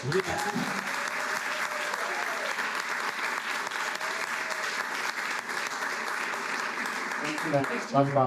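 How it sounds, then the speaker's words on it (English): Sustained applause from the audience at a community showcase fills the whole stretch, dense and steady, with a few voices and cheers rising near the end. "Like another round of applause for it."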